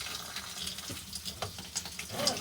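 Water runs at low pressure from an RV faucet on a city water hookup, a soft steady trickle with light splashy spurts, quiet and alone.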